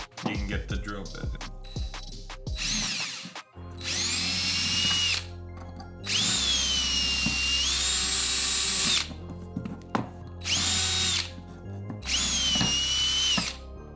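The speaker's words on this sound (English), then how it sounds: "I just want to start drilling through some of the letters." A power drill whirs in several bursts with pauses between, rising to a steady high whine each time, close and loud, drilling holes through a knife handle, with some clattering handling noise at the start.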